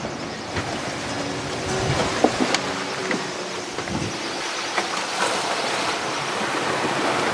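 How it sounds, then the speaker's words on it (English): Steady wash of Pacific Ocean water around a boat, a broad continuous rushing noise at moderate level with faint bumps and splashes scattered through it and no speech. "Another charming day on the Pacific Ocean."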